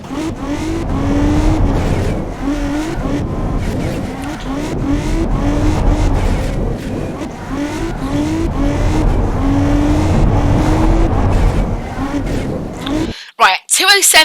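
Race car engine in a video game test run, a loud sustained drone with repeated rising revs and gear changes through the lap, ending in a sudden cutoff and brief bursts.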